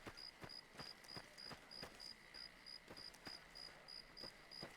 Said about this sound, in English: Also, what is with this incredibly loud cricket?